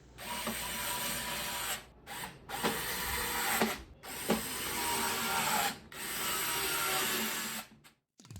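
Four housing screws being driven into an X-Arcade Tankstick, a close whirring ratchety buzz of a power driver in several separate bursts with short pauses between, no talking.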